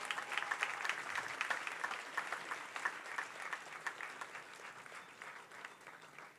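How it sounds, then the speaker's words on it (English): Sustained applause from a crowd at a military recruit passing-out parade, dense rapid clapping that stays steady and fairly loud throughout, with no voices standing out. "I want you to clap for that as well."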